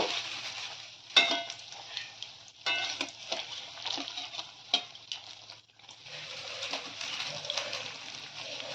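Batter-coated snacks sizzling in hot oil after being turned, a continuous close crackle broken by clattering utensil knocks and brief pauses.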